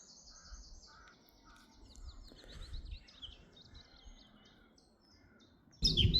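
Several birds sing and chirp outdoors in a quiet, peaceful setting, with repeated high whistles and trills at moderate distance, then a sudden loud rustling burst near the end.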